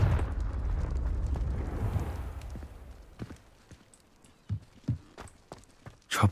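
A Confringo fire spell explodes in the video game Hogwarts Legacy, a rumbling blast that slowly fades, followed by sparse soft thuds and taps of movement.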